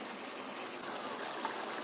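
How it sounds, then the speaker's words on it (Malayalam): Hot water poured into a pot of chicken biryani, heard as a soft, steady trickling stream that stays faint and even for about two seconds with no voices. "ചൂടുവെള്ളമാണ് ഞാൻ ഒഴിക്കുന്നത്."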